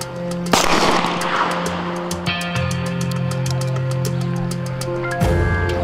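A single loud gunshot cracks out at a military firing practice, followed by a steady mechanical hum and a second sharp burst near the end; no voices.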